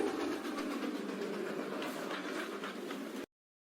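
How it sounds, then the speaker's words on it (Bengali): A train rolls in as a story sound effect, a steady close rumble with faint rhythmic clatter running evenly before cutting off abruptly, with no voices. "ওর ট্রেন এসে গিয়েছে"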